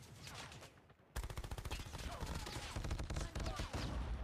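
Rapid gunfire from a Call of Duty match, with dense bursts of automatic fire cracking from all sides, loud and continuous after a brief quieter opening, with a voice talking underneath.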